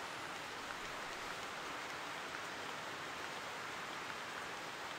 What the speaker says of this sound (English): So in the meantime, it has started to rain.